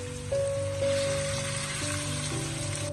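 Dried tofu hits a hot wok already holding fried scallion, ginger, garlic and chili, setting off a dense, steady sizzle with a faint background hum throughout, close and continuous.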